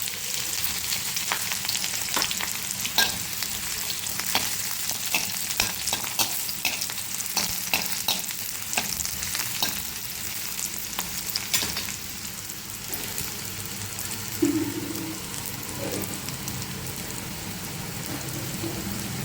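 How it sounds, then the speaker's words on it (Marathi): Onion, green chili and curry leaves sauté in hot oil after the cumin has crackled, making a dense steady sizzle with sharp pops and crackles. Close and continuous, with an occasional clink of the utensil and no talk. "त्याच्यात मिरची, थोडे कढीपत्ते आणि कांदा परतून घ्यायचा."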